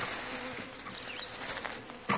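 A honeybee swarm hums steadily throughout while being captured into a hive outdoors, a dense continuous buzz with a few louder passes near the end.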